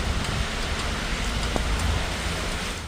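Steady rain falling outdoors on the way to a church, a dense continuous patter with no voices, even and fairly loud throughout.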